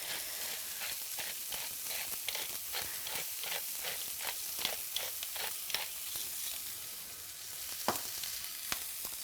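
Brussels sprouts sizzle steadily in a hot pan while being stirred, the constant frying hiss broken by a regular series of scraping stir strokes, close and fairly loud with no voices.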